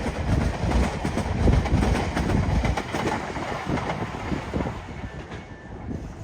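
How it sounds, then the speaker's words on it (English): A single Southern Class 377 electric train departs Clapham Junction, its rolling rumble and wheel noise loud at first and gradually easing as it pulls away, with a faint bird call in the background. "And now departing is a pair of Southern 377s off to London Victoria"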